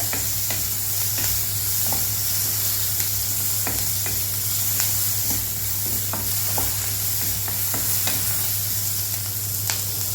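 Chopped onions sauté with salt in a pan for Karaikudi kara chutney, giving a steady, close sizzle and hiss broken by light scraping stirs and clicks of a spoon, with no one talking.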